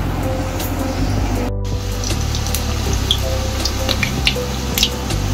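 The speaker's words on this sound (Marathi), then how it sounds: "पूर्ण चिमणीचा आवाज येईल" A kitchen chimney exhaust hood runs overhead while kothimbir vadi fries, giving a steady, close whirring hum with low motor tones throughout and no talk.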